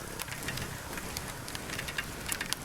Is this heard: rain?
yes